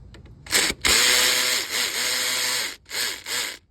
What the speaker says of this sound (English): now that it's out, I can take off my bolts.